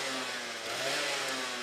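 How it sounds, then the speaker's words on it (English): Racing kart at a Whilton Mill kart club championship round: a buzzing, high-revving small engine drones steadily at moderate distance, a smooth continuous whine with no talk. "The kart coming through there."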